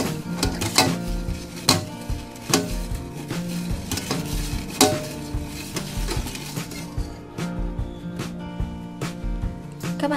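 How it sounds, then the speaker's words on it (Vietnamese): A utensil stirs corn milk in a pot with repeated scraping and clinking against the pot's metal sides and a steady sizzling hiss underneath, heard close up with no talking. "Sau đây các bạn quấy đều lên."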